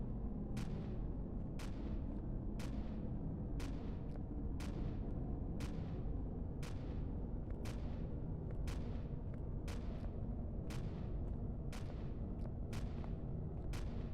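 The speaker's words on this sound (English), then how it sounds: "Find out where this guy's actually firing from." Steady volley of enemy gunfire in Empyrion Galactic Survival, sharp regular shots roughly once a second over a dense low rumble, loud and continuous with no talking.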